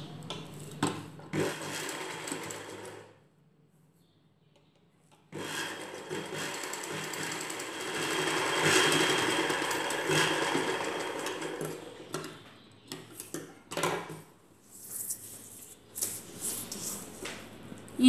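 A sewing machine runs stitching lace onto a ghagra, whirring steadily in bursts with a pause near the start, then stopping and starting in short runs toward the end; no talking.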